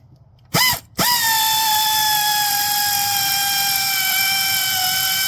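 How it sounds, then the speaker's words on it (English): An air tool in a home garage fires two short bursts, then spins up into a sustained, piercing high whine that settles into a steady, loud drone. "This is why I don't use air tools too much at home."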